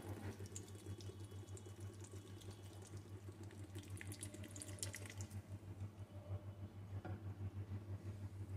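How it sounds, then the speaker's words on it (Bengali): Water is poured onto old tamarind in a bowl to soak, a faint steady trickle and splash running continuously against a low background hum. "এখন আমি এই তেঁতুলের ভিতরে একটু জল দিয়ে তেঁতুলটা কিছুক্ষণ ভিজিয়ে"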